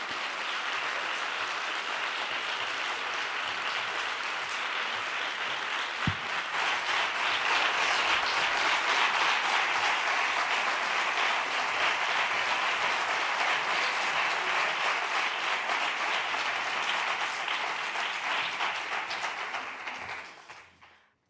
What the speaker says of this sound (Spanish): Gracias y un aplauso para vosotros.